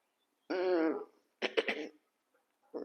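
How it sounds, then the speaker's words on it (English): A sick man coughs twice: one long, raspy, voiced throat-clearing cough, then a short cluster of harsh bursts a moment later, close to the mic with quiet gaps between them. "So I just had to cough."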